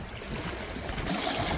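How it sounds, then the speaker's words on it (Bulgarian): Sea water at a beach washes and splashes around feet in a steady, fairly faint hiss and swirl of surf with no clear separate splashes. "И крачетата ми да ги плиска вода."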